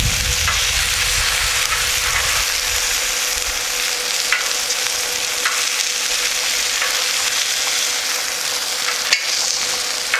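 Meat and onions sear on a Blackstone griddle, a loud, dense, continuous sizzle with faint scraping ticks from a spatula now and then, no one speaking.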